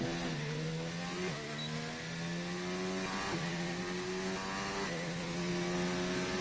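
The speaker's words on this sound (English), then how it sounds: "Sounds like he's only using his first 3 gears." Race car engine in a racing video game revving hard in low gears, a steady loud drone with repeated rising pitch sweeps and quick upshifts about every one and a half seconds, alone with no talk.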